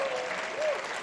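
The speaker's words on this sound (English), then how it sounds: "That applause was great." Applause from a workshop audience, a dense steady patter of clapping filling the whole short moment.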